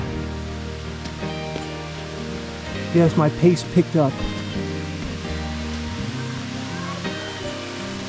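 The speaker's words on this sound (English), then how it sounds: "You can see the water coming down the face here." The Moore Cove Falls waterfall pours down a rock face as a steady, moderate rush along a forest trail, with a person talking and breathing briefly over it midway.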